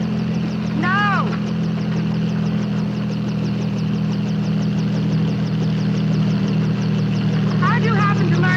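A helicopter in a 1957 film drones steadily and continuously, with a constant low rotor and engine hum that stays loud and even from start to finish.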